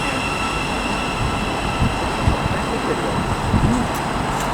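Thameslink Class 700 electric multiple unit moving through Luton Airport Parkway station on the Midland Main Line, a steady rumble of wheels and traction noise at moderate loudness with a faint announcer or voice in the background.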